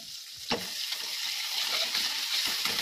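Ginger paste and tomatoes fry in oil with a steady, close broadband sizzle, broken by a sharp clack near the start and a softer knock later, with no voices.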